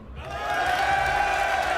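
Crowd at an esports event, the Red Bull Wololo Age of Empires tournament, cheering in a sustained roar that swells and holds steady.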